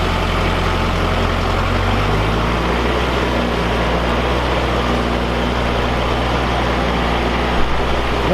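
An LS XR 4040 tractor engine revs up from idle to a steady, loud diesel drone with a low, throbbing rumble, close by and continuous.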